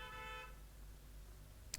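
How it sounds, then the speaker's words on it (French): A car horn honks outside in the street, heard faintly and distantly over background music with steady tones, then a short louder toot near the end. "Il y a un mec qui klaxonne."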